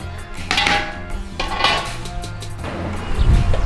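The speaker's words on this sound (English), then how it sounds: "So all we got to do is keep giving it a stir as it cooks away for about 20 minutes." Metal spoon scraping and clinking against a pot of simmering pre-cooked lentil dal, a few loud clattering strokes close up with a low bubbling rumble between them.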